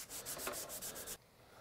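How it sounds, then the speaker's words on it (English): A brush scrubs rust off an old hammer in quick rhythmic strokes, about eight close rasping rubs before stopping abruptly into quiet. "you can see I've scrubbed this for a few minutes, and it's really cleaning this tool off"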